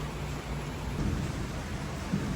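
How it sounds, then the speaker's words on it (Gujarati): Steady wash of rain outside a balcony with a low rumble of thunder beneath it, a dense continuous hiss at moderate level with slight swells, no voices. "બહાર વાદળ ગાતા હતા અને વરસાદ ચાલુ થયો"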